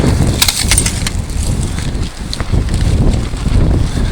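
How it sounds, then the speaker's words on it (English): Breezy outdoor day near houses, with gusty wind buffeting the microphone in a continuous loud low rumble and a few faint crackles, no speech. "Nice breezy day."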